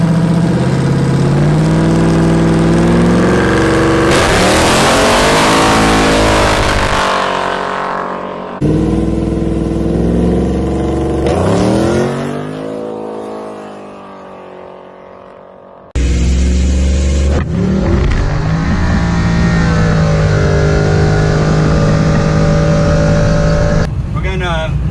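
A procharged LS3 Chevrolet Nova accelerates hard on a street, its engine roaring loudly and close in several long revving pulls separated by brief drops and cuts.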